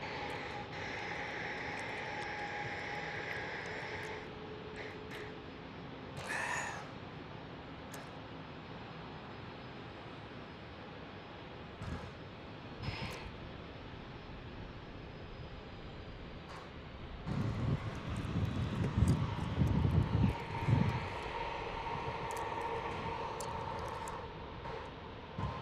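An airliner arrives at San Diego airport, a low jet rumble at first that swells into a louder, closer roar near the end, with a few brief clicks and knocks in the background.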